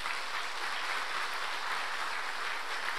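A church congregation gives a round of applause to glorify God after an evening service, a steady, even wash of many hands clapping, heard from some distance and sustained throughout.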